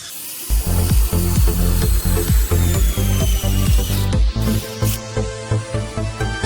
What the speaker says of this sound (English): Drill clean as well, because it does tend to twist it up a bit.